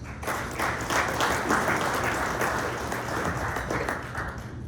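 Audience applause at a morning mayoral update event in Corona, steady clapping from a sizable crowd filling the room at moderate level throughout.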